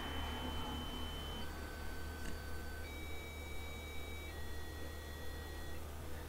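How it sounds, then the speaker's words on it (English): A small buzzer on an FPGA development board sounds a series of steady electronic tones, each held about a second at a different pitch. The tones are quiet and sit over a constant background hum. "Buzzer's not very loud,"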